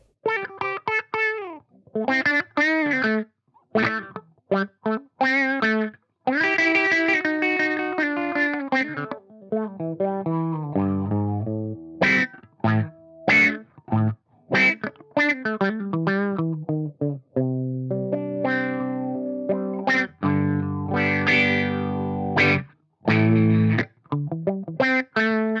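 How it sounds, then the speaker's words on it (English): An electric guitar runs through a Sonicake Cry-Bot auto wah effects pedal, playing a string of distinct notes and chords with a vocal, sweeping tone, some sustained and some clipped short, loud and close. "where you're getting that auto wah that you kind of expect"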